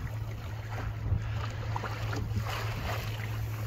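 On a sailing boat on the River Lynher in misty Cornwall, wind blows steadily past the microphone over a low constant hum, with soft splashes of water against the hull.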